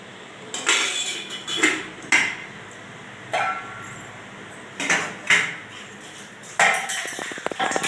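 Close metallic clanks and clatters of a lid settling onto a pot of boiling tomato ghee rice, several sharp hits spaced by short pauses, with faint background noise.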